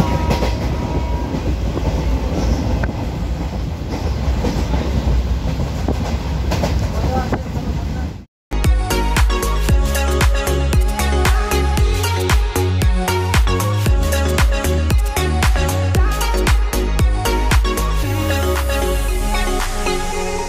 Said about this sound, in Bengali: ট্রেনে ট্রাভেল করছি